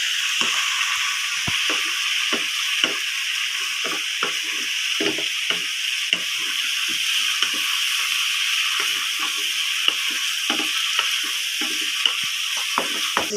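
Steady sizzling of pork adobo and bitter melon frying in a pan, with repeated soft scrapes and knocks of a utensil stirring throughout.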